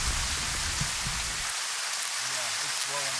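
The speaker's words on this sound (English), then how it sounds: "Dumping hail." Hail pours down hard on a riverside camp during a fall fishing trip, a dense hissing patter that fills the first half, then thins as faint voices come in.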